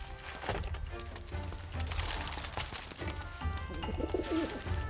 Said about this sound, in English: Stupid bird.